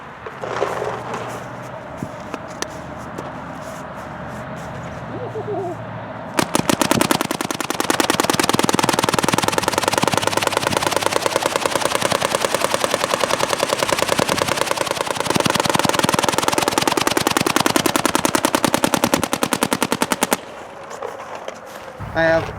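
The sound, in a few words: MacDev Prime XTS paintball marker shooting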